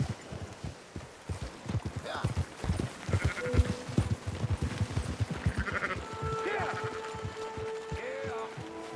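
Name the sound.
sheep bleating in the video game Red Dead Redemption 2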